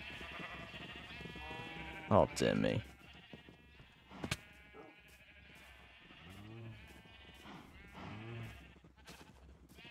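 Sheep bleat in the video game Minecraft, several short wavering calls at moderate volume heard under a man's speech and game sounds.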